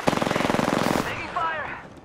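Rapid automatic gunfire in a battle-royale shooter video game, a fast even burst of about twenty shots lasting a second, followed by quieter whooshing game sounds.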